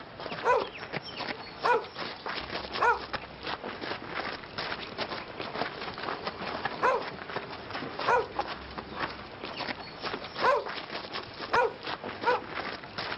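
Dogs bark in a steady series of short, sharp yelps spaced about a second apart, moderately loud and slightly distant over a hissy background.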